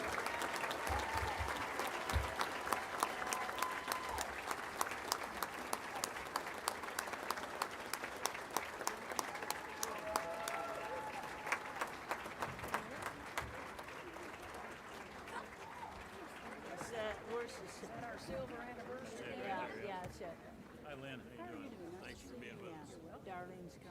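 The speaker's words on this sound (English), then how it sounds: "Let's give them a round of applause" Applause from a banquet audience at a basketball hall of fame women's awards event, honoring a silver anniversary team, a long steady wash of many hands clapping at moderate distance, with an announcer's voice coming in near the end.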